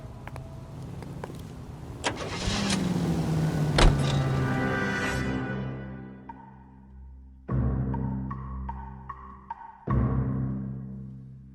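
A car in L.A. Noire, heard as a steady engine rumble with a falling whine, then door-like thumps and a shifting mechanical hum, all close and without any talking.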